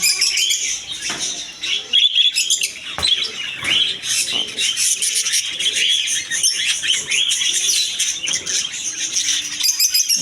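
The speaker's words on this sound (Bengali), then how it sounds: "অনেক সুন্দর একটা রেয়ার পাখি" Caged birds in a bird shop keep up a dense chorus of high, rapid chirps and twitters, mixed with occasional wing flutters and cage rustles, close and continuous with no talking.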